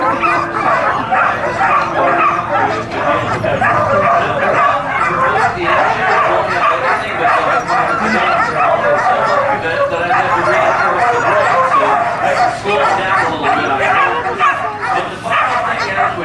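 A pack of sled dogs in Alaska, eager to pull, barks and yips almost without pause in a dense, loud chorus of overlapping voices, with an occasional whimper, while people talk nearby.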